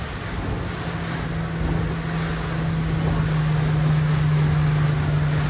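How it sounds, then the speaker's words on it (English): A Boston Whaler 240 Vantage motorboat engine drones steadily at a low, even pitch on a slow plane at 14 mph, with rushing water and wind buffeting the microphone. "I'm able to keep this boat up running on a very slow plane at 14 miles an hour"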